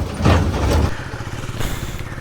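A Hero Xpulse 210 motorcycle rides off-road over hilly terrain, its engine a steady rough rumble with wind buffeting and bumps and clatter from the rough ground.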